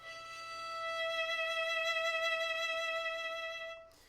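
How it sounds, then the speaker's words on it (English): A violin note played with vibrato, its bowed tone gently wavering in pitch as it swells, sustains for a few seconds and then stops. "And then if I add vibrato,"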